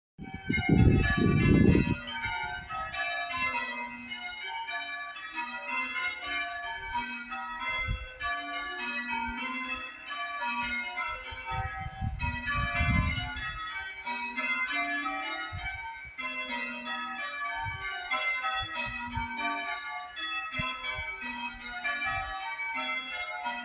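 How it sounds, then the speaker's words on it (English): A peal of church bells at St Nicholas's church in Godstone rings continuously, overlapping tones cascading in steady rotation for the whole stretch, with a few low thumps near the start. "here's what the peal of bells at St Nicholas's sounds like"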